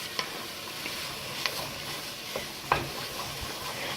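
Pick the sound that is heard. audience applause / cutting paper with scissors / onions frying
onions frying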